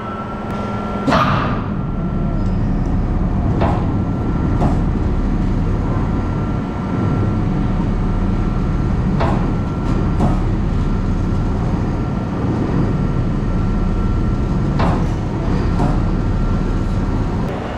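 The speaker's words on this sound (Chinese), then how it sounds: "下面先启动，马达启动。" An exhibit machine for making gears runs at a Toyota museum in Nagoya, its motor giving off a steady, loud mechanical drone. Sharp clicks and clacks pop up at scattered moments over the hum.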